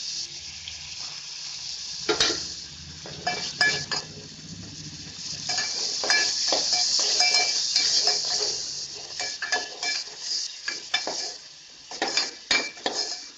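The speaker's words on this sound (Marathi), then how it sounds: "आता हा बारीक केलेला मसाला टाकणार आहोत" Ground masala roasting in a pan after ginger-garlic paste, with a bright steady sizzle and repeated metallic clinks and scrapes of a spoon against the pan, close and prominent.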